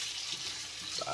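Chicken adobo with pineapple being stirred in a pan, a steady soft sizzle with faint scraping of the spoon throughout.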